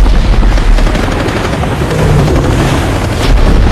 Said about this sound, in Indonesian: Untung ada helikopter yang membantu menembak Megalodon.